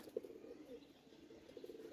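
Pigeons scuffling and flapping in their loft where chicks have hatched, with a few short, faint bursts of wingbeats and soft cooing over a quiet background.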